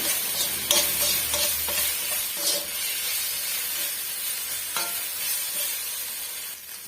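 Ginger garlic paste sizzles and fries steadily in a hot pan for a chicken gravy, with intermittent scraping stirs of a spatula over a continuous loud hiss.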